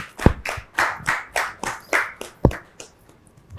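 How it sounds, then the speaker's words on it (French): A small group claps in a loose, uneven rhythm, about a dozen sharp claps that thin out toward the end. "On applaudit encore."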